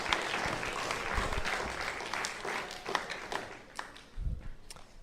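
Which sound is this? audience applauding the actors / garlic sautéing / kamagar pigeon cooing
audience applauding the actors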